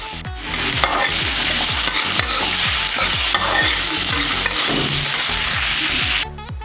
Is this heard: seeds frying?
yes